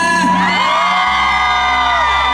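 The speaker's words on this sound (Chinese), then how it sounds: "你们全场的尖叫声在哪里？" A big outdoor crowd at a Taiwanese folk music concert in Linbian, Pingtung, screams and cheers loudly in a sustained rising roar of whoops and yells that swells, holds and slowly tapers off.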